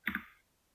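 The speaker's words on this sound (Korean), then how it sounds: "그냥 키보드 딜리트 누르셔도 돼요" A single delete key pressed on a computer keyboard gives one short, close click that fades quickly into quiet, with no other sound around it.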